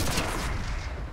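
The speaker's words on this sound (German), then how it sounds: "Mit dem MG brauche ich da einige Schuss und mit der Pistole gerade mal einen einzigen, um das Ding in die Luft zu jagen." Gunfire from the video game Mass Effect 3 fills the moment with dense, booming shots in quick succession, loud and up front with no talk.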